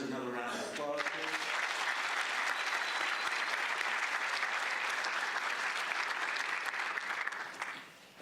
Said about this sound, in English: let's give all our presenters another round of applause